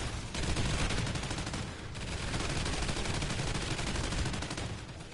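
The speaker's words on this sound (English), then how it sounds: "It's amazing how these turrets don't kill anybody. Only kill aliens." Turrets blaze away in the video game Extinction, a dense, continuous stream of rapid gunfire that stays loud and steady throughout with only a brief dip.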